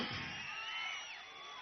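Crowd at a Pawan Kalyan Varahi political rally, a brief burst of high, whistling shouts and cheering from many people, fairly distant and fading slightly over a second or two.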